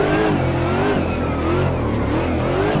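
A drift car engine in Assetto Corsa, in third gear after a clutch kick, revs steadily with a loud, close, sustained drone and slight pitch wavering, no voices.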